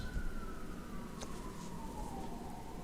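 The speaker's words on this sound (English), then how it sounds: "It's hard to record with sirens." An emergency vehicle siren wails outside, its tone gliding slowly downward as it passes at moderate distance, steady over low street rumble with no talk.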